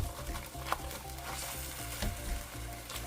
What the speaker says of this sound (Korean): 김치가 부드럽게 익도록 중불에서 볶아주세요.